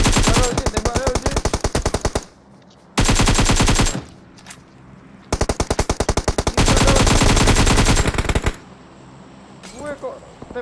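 Bursts of rapid automatic gunfire in the mobile battle royale game PUBG Mobile, loud and close, coming in several long sustained volleys separated by short gaps, with a few isolated shots near the end.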